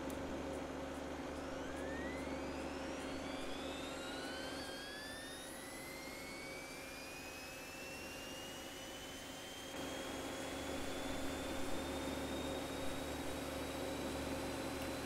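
An airliner's jet engine starts up in the X-Plane 11 flight simulator: a steady background hum with several whining tones that climb in pitch as the turbine spools up, fairly quiet overall and without speech.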